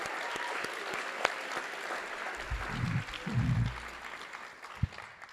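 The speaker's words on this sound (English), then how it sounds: "Let's just give the morning session a round of applause one more time." Applause from the audience at an oncology symposium for the morning session, moderately distant clapping with a brief swell partway through and a few sharper claps standing out.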